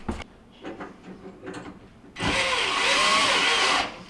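A power drill drives screws back into the burner caps of a Jenn-Air cooktop: a few soft taps and clicks, then one close, loud whirring burst of about a second and a half that rises in pitch and cuts off.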